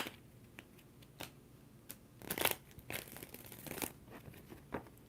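Tarot cards being shuffled by hand, a run of crisp riffling and crinkling bursts with soft taps between, close and moderately quiet with no talking.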